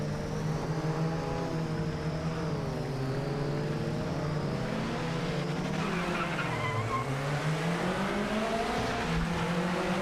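A race car engine in the Project Motor Racing video game revs hard through a throttle and clutch-dump launch, the loud continuous whine rising and dipping with tire squeal, and no voices.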